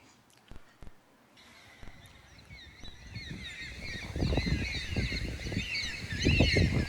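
Drawn-out, wavering calls of white-tailed black cockatoos flying over a yard, starting faint and growing louder and more frequent as the flock nears, with a few sharp knocks early on.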